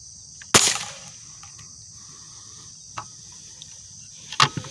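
Air gun firing outdoors: a sharp crack near the start, then faint ticks and a second sharp report with a ricochet-like snap near the end, over a steady high insect drone.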